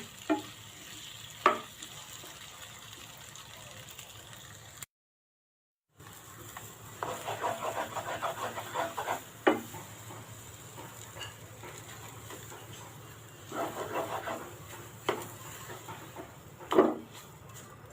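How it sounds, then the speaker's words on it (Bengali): Mukhi kochu taro pieces frying in a pan, a soft ongoing sizzle with scattered clinks and bursts of stirring and scraping, plus a brief full silence partway through. "এখন এই মুখি কচুগুলো দিয়ে দিলাম এটাকে ভালো করে ভাজবো"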